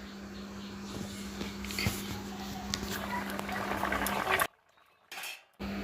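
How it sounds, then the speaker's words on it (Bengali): Eggplant and potato shukto curry simmering in water in a pan, a steady soft bubbling with occasional utensil clinks, briefly dropping out near the end. "ফুটে গেছে তরকারিটা আমার।"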